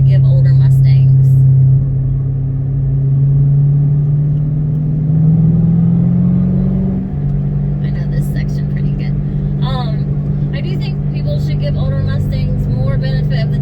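Steady engine hum of a 2006 Ford Mustang GT on a test drive, a low droning tone that rises slightly mid-way then settles, with someone talking over it inside the cabin.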